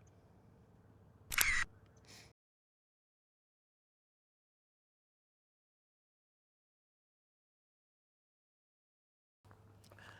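An intervalometer-triggered camera shutter on a DSLR fires once as a sharp, close mechanical click, set between short stretches of faint background hiss and followed by a long silence.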